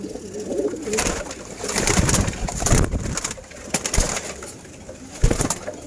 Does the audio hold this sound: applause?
no